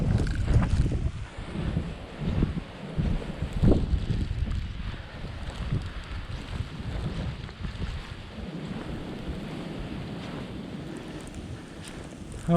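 Blizzard wind roars and gusts hard against the microphone, a heavy, continuous rumbling buffet that swells and eases throughout, with no talking.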